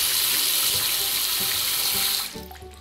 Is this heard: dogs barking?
no